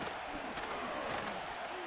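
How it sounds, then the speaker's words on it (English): Stadium crowd in the Madden 2025 football video game roars and cheers steadily ahead of a third-down play, a dense, continuous wash of noise with no voices standing out. "This crowd into it now as we get to 3rd down."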